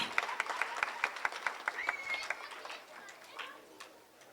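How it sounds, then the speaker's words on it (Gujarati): An audience at a Republic Day gathering in an ashram in Surat claps in quick, steady rhythm, with some crowd murmur underneath, and the clapping fades toward the end. "તાળીઓથી વધાવી લઈએ"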